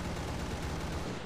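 Dense, continuous gunfire from War Thunder, a steady roar of rapid shots and explosions as aircraft are fired on, filling the whole moment without pause.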